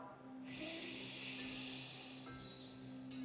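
A single slow, steady inhalation through the right nostril during alternate-nostril yoga breathing, a soft airy hiss lasting about three seconds, close and quiet, with no talking.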